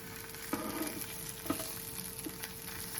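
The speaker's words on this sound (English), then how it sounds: "Usually on the griddle, bacon will be finished in 7" Bacon fries on a griddle with a soft, even sizzle, with a few light clicks or taps of a utensil against the surface, fairly quiet and close, no voices.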